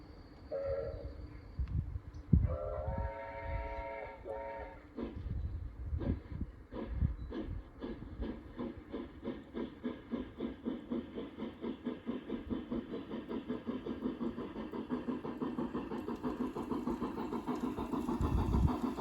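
An LGB French Mikado model locomotive slowly gets going, its motor hum joined by a steady, gradually quickening chuff rhythm, with a few brief tonal whistle or sound-effect notes early on, close and alone.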